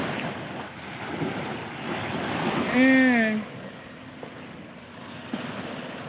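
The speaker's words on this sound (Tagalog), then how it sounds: "Grabe ang alon ngayon." Wind and strong surging sea waves roar steadily at the beach, with a brief voiced sound rising above the wash midway before fading back into the surf.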